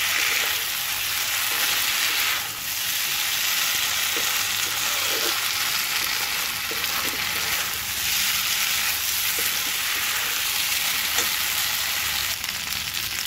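Onion stalks, potato and soybean sauté with spices in a hot pan, giving a loud, steady sizzle with faint scrapes of stirring throughout.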